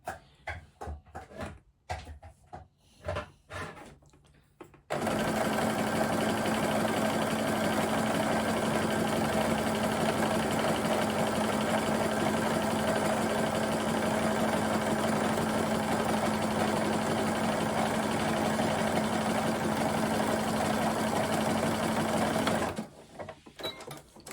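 A sewing machine stitches a seam down a length of jersey knit fabric, a steady fast mechanical whir lasting about eighteen seconds after a few short stop-start bursts, with no talking.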